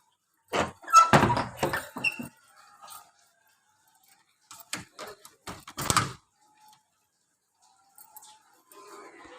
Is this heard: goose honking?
no